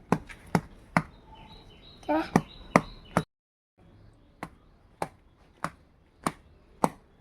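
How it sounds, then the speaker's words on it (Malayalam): Raw mango with salt and chili pounded on a stone gives sharp, evenly spaced knocks, roughly two per second, broken by a brief pause before the steady blows resume, close and clear over faint background noise. "മാങ്ങ ഉപ്പും മുളകും ഇട്ടിട്ട് അടിക്കുന്നത്."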